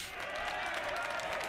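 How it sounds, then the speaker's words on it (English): Canned applause and cheering fired off a soundboard, a steady dense wash of clapping that holds at an even level for the whole moment with no voices over it. "I hit the applause."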